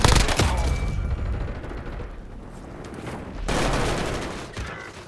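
Warzone video game gunfire: a sharp burst of rapid automatic shots opens, then dense rumbling fire continues and swells again toward the end.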